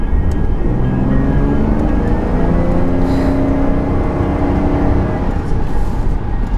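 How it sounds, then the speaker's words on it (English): A twin-turbo Toyota Soarer engine drones steadily at close range, its pitch slowly climbing as it accelerates, with a faint turbo whine rising above the low rumble. "I can hear the twin turbos spooling up"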